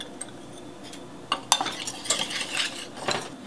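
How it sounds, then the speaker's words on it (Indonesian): Egg yolk mixture with cornstarch is whisked in a bowl, producing light scattered clinks and scraping taps of a utensil, soft and close, with a few sharper knocks. "saya mau langsung aja si maizena ini. Semuanya langsung dan dikocok lagi."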